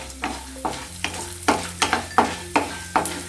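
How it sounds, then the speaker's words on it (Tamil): Chana dal and urad dal sautéed in a little oil in a pan, heard as a steady run of rhythmic scraping stir strokes, about one every half second, close and clear over a faint sizzle. "இந்த கடலைப்பருப்பு, உளுத்தம் பருப்பு இதை முதல்ல கொஞ்சம் வதக்கிடலாம்."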